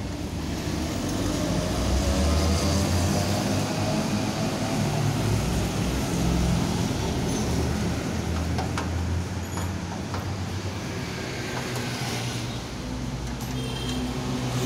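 A Mahkota grass chopper and flour mill machine runs steadily, a loud continuous mechanical roar with a deep hum and dense rattling that holds level throughout, with no voices.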